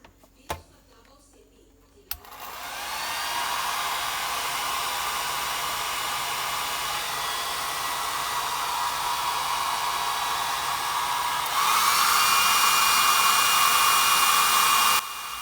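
After a couple of clicks, a 1,600-watt hair dryer switches on and blows with a steady, loud rushing whir, rising a notch in intensity near the end.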